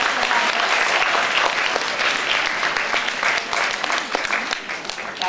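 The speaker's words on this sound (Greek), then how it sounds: "Και εδώ θέλω ένα μεγάλο χειροκρότημα." Sustained applause from an audience at a Greek tutoring school's event, a dense, steady wash of many hands clapping that fills the whole stretch without pause.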